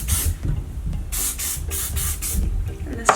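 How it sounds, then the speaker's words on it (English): Thick and Sexy hairspray misted onto teased, backcombed hair in several bursts of aerosol hiss, close and fairly loud, with short pauses between sprays. "And then hit it with any hairspray."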